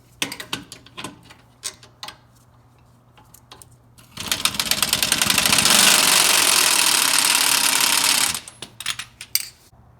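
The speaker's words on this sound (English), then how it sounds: "We just need to loosen it using a 15mm socket and a 15mm open end wrench." A 15mm socket and wrench loosen a sway bar link on a 2014+ GM truck front suspension. Scattered ratchet clicks lead into about four seconds of loud continuous rapid ratcheting, then more sparse clicks.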